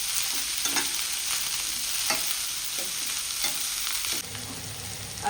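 Onion flowers fry in a pan with a steady, close, hissing sizzle, broken by a few scraping stirs of a spoon; nobody speaks.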